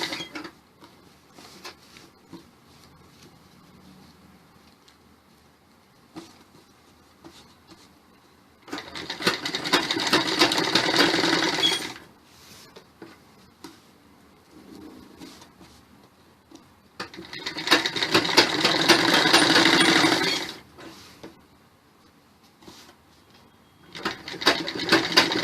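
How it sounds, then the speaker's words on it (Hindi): A sewing machine stitches along the edge of a belted salwar in two long, loud, even runs of rapid mechanical chatter, with quieter clicks and handling noises between the bursts. "किनारे किनारे एक सिलाई देंगे।"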